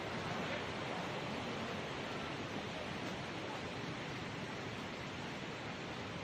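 Steady broadband rush of water at Khun Korn waterfall, a constant roaring wash that holds level throughout with no distinct breaks and no voices.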